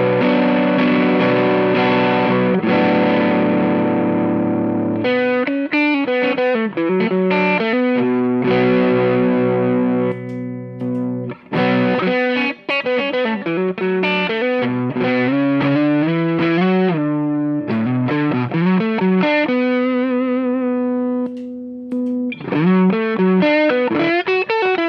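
Electric guitar through the black version of the Suhr Shiba Drive overdrive pedal, loud driven chords and single-note phrases with sustained ringing and short pauses between passages, no talking.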